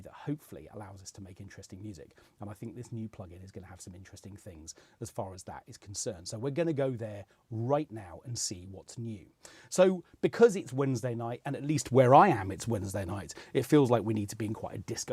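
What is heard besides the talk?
None of the usual background noises is heard.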